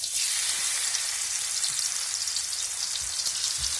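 Ash gourd fritters frying in oil in a wok over a wood-fired stove, giving a steady, close hiss and crackle of sizzling oil throughout, with no talking.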